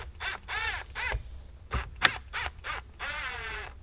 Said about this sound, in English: Just go ahead and remove the two screws, one right here and one right here